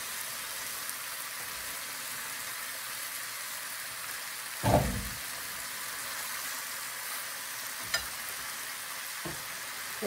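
Chinese cabbage stir-frying in a pan alongside mushroom and shrimp, giving a steady loud sizzle like hissing rain, broken by a clattering thump midway and a few faint taps.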